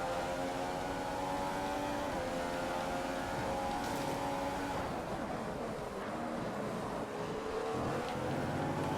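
F1 car engine in the racing game F1 2015 during a flying lap at the Australian Grand Prix, a loud continuous high-pitched whine that climbs in pitch through gear changes.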